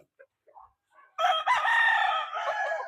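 A gamecock, a two-time derby winner, crows loud and close in a backyard after a few soft clucks, giving one long drawn-out cock-a-doodle-doo.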